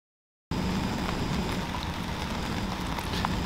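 A rain ambience layer added in Spectralayers starts abruptly after a brief silence, a dense, steady, close wash of rainfall that stays even throughout.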